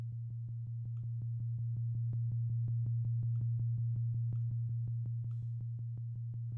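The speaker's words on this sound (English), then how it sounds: "I know sine waves are typically a little more quiet just because they don't have as many harmonics" A quiet, pure low sine-wave synth tone from an Omnisphere patch hums steadily without a break, marked by a regular train of soft clicking pulses at an even tempo.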